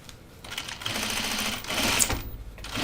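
Sewing machine stitching a 3/8-inch seam on a fabric laundry basket, a close, rapid mechanical chatter of needle strokes in short bursts with slight pauses.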